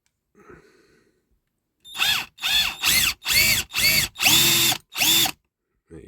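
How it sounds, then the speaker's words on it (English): An electric drill whines in seven short bursts, pitch dipping as it bites into a rivet on a 1963–70 Matchbox King Size diecast ready-mix concrete truck, with brief pauses between; faint rustling comes before. "we'll just drill this one out"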